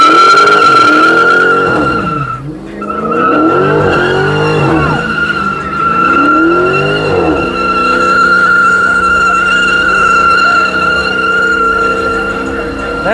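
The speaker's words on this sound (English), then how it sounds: "That's a long burnout." A Dodge Charger at a car meet does a long burnout, its tires screeching loudly and continuously over a roaring engine whose pitch wavers up and down before settling into a sustained howl.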